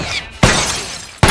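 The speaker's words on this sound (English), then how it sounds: "Throws a brick." A thrown brick shattering in The Last of Us, two sharp close breaking crashes in quick succession, each with a bright, scattering tail.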